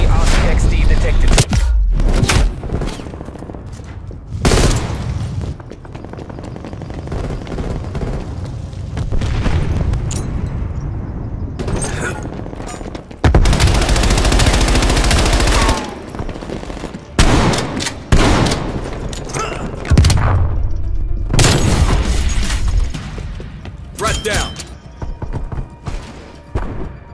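Video game combat with repeated gunfire bursts and heavy explosions, including artillery, napalm and grenades, loud and close in irregular clusters, with game voice callouts heard between blasts.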